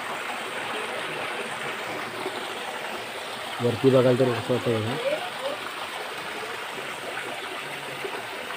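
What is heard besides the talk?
river water flowing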